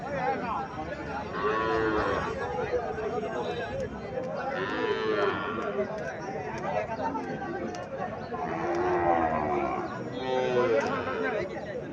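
Sahiwal cattle lowing at a livestock market, with several drawn-out moos rising over a steady crowd murmur and nearby chatter throughout.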